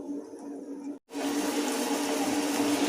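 Sugar syrup for gulab jamun boils steadily in a pot, giving a continuous close hiss and bubbling that drops out for a split second, then carries on evenly.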